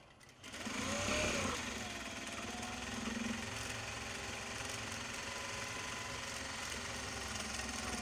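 A sewing machine top stitches small box bags made from Japanese fabric, a continuous close motor hum with a fast, even needle chatter that holds steady throughout after a brief quieter start.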